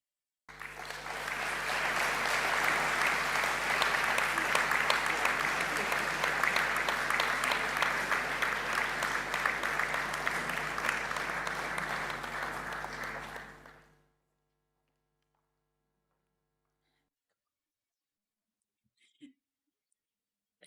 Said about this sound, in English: Sous vos applaudissements, je vous demande d'accueillir la famille Girardin.